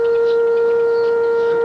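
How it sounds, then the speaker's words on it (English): Port of Tampa chemical spill warning siren during a test, a loud steady tone held throughout the short stretch. "The sirens are tested like this each year to make sure they're working."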